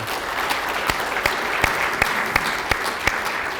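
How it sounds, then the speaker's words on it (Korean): An audience at a Korean regional meeting on unification applauds loudly and steadily for several seconds, with a few sharper claps standing out at a fairly even pace. "큰 박수 한번 보내주시기 바랍니다"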